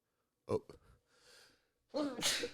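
A person sneezes in short, sharp bursts close to the microphone, with a breathy sound in between and a brief spoken exclamation.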